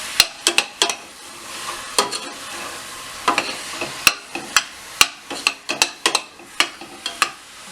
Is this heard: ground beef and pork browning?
yes